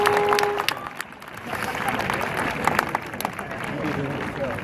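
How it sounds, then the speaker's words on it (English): Graduation audience applause, a broad crowd of clapping with some cheering mixed in that swells and holds at moderate loudness for several seconds, slightly distant. "Graduates, please give your families a loud round of applause."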